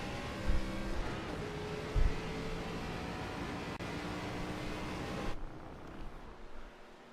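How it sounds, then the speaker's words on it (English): Sim racing game race cars taking turn 8, a corner near the checkered flag, with a steady layered engine drone and a couple of low thumps. The sound cuts to a quieter, duller tone near the end. "As Panzarella now takes Panopa corner, turn 8, to come to the checkered flag"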